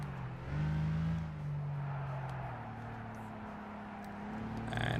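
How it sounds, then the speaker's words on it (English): A race car in Gran Turismo 6 accelerates through a corner, its engine a steady droning note that rises and shifts in pitch, moderately loud with no voices over it. "And accelerate through the corner."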